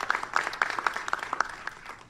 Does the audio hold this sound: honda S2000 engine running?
no